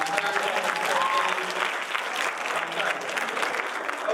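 Audience applause for a slam poet at a student versus faculty slam: a sustained, dense burst of clapping from a crowd that stays loud for several seconds, with voices mixed in.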